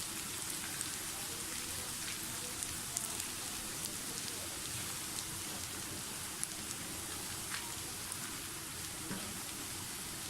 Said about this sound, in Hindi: प्याज हमारा फ्राई होने वाला है, थोड़ा सा और गोल्डन फ्राई करें इसको।